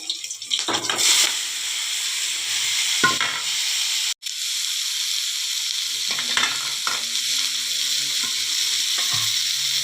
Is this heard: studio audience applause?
no